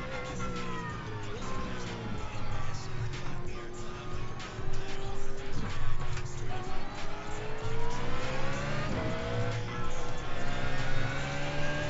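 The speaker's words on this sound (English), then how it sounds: "McLaren popping flames" A McLaren race car at a Mid-Ohio race sends out a loud, continuous engine howl whose pitch rises and falls as it works through the revs, with a few sharper tire or exhaust bursts along the way.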